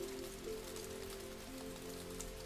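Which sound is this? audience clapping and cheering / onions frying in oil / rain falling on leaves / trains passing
rain falling on leaves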